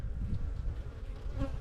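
Honey bees buzz steadily and close up while a hive from a split is opened for inspection, a continuous droning hum with small swells and no voices.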